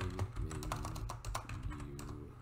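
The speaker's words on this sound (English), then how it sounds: "the keyboard is louder than when I'm talking" Someone types on a computer keyboard in quick, uneven clicks close to the microphone, with a quiet hum underneath and no talking.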